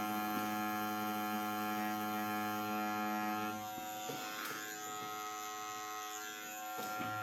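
Coil tattoo machine buzzing steadily while lining a twin dragon design on practice skin, a close, constant harmonic drone that shifts to a lower, slightly rougher tone about halfway through.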